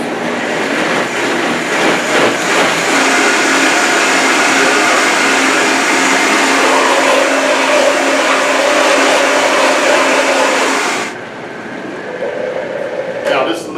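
A Vitamix blender whirs loudly and steadily while blending a thick salsa of rehydrated dried chili peppers, then cuts off abruptly near the end, leaving quieter room sound.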